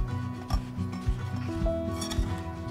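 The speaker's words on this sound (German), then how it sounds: "Die Seiten ein bisschen von der Backform lösen." A utensil scrapes around the sides of a baking pan to loosen a flourless paleo banana bread, giving soft rubbing and rasping strokes in a few short passes, close and quiet with no speech.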